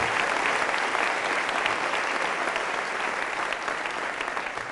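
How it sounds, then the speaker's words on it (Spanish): Sustained, loud applause from a church congregation honoring the Virgin Mary, a dense wash of many hands clapping that stays steady throughout without any voices over it. "Fuertes aplausos a nuestra Madre Santa, a la Virgen María"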